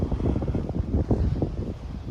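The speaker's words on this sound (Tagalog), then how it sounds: "Malakas yung hangin." Strong wind buffets the microphone in a steady low roar with gusting surges, no voices present.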